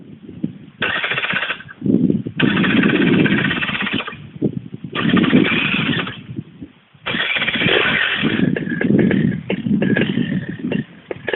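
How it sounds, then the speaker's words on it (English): A Moster 185 paramotor engine is pulled over repeatedly, sputtering in short loud bursts with gaps between attempts before catching and running roughly, close by with no talk. "Alright kids, don't start your motor on the ground at home."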